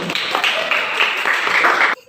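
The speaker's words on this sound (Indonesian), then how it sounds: "Tepuk tangan ya," Classroom audience applause after a student presentation, a dense burst of hand clapping lasting about two seconds before stopping abruptly.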